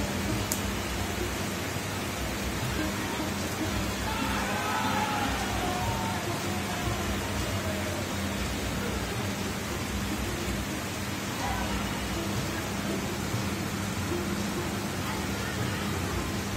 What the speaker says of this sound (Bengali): তো বৃষ্টিটা জোরে হচ্ছিল আর অনেকটাই হচ্ছে